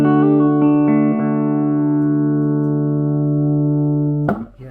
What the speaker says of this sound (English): I can't remember how loud this amp was before before we've done all these changes to it